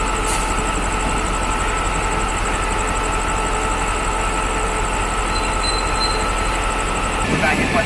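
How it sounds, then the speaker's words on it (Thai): A diesel-hauled test train pulls out of Bang Sue Junction station in Bangkok, bound for Chiang Mai, with a loud, steady engine rumble and rolling wagon noise close by, and a faint squeal near the end. "ตอนนี้ก็ได้เวลาที่ขบวนรถทดสอบที่ 1151 จะออกจากสถานี รถไฟชุมทางบางซื่อแล้วนะครับ"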